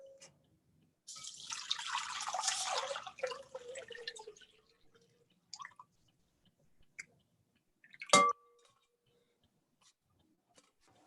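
Boiled lavender tea strained through a strainer, a burst of liquid pouring and splashing for about three seconds, then tapering to scattered drips and light clinks, with one sharp knock partway through; no talking.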